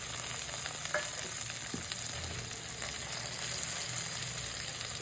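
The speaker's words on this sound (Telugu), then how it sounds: "అలాగే టమాటాలు ఒక 2-3 తరిగి వేయాలి." Chopped tomatoes frying and being stirred in a pan for cauliflower pappu pulusu, a steady close sizzle with faint scraping stirs throughout and no talk.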